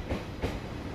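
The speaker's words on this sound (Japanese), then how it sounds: "まもなく5番線に当駅止まりの列車が参ります。" A four-car train arrives at platform 5 of Sendai Station on the Sendai Airport Access Line, a low rolling rumble with two soft rhythmic wheel clacks, fairly faint and without voices.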